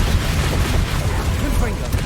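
Incendio fire spell cast in Hogwarts Legacy: a short, steady roaring burst of flame lasting about two seconds, dense and loud throughout with crackling texture, surrounded by other game noise.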